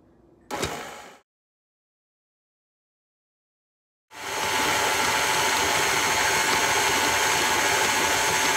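A brief mechanical clunk and whir, then silence, then a loud, steady motor drone with rhythmic churning as a stand mixer with a paddle runs continuously on low, mixing sweet potato pie filling.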